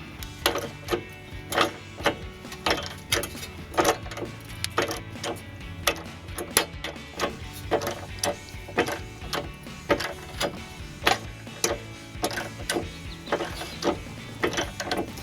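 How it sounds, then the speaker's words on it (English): Bolts and nuts being removed from the front bumper of a Jeep Gladiator JT, heard as a steady run of rapid mechanical ratcheting clicks, close and fairly loud, repeating without pause for the whole stretch. "These are 2 of the last 4 bolts that still need to be taken off,"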